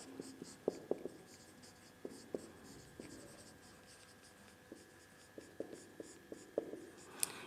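Chalk or marker writing numbers on a board in a maths class, heard as scattered, faint, close taps and short scratches in small bursts over a quiet room hum.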